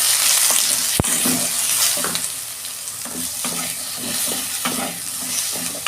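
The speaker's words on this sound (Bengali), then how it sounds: "দেখুন বন্ধুরা, এগুলো আমি হালকা করে ভেজে নিচ্ছি" Bitter gourd frying in a pan of oil, a constant sizzle close by with rhythmic spatula scrapes and a sharp knock early on.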